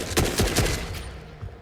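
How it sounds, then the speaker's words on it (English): Automatic gunfire from a heavy machine gun or AK in a first-person video game: a quick, even run of loud shots that tails off into a noisy fade. "The most obvious way would be to simply mow them all down with your HMG or AK."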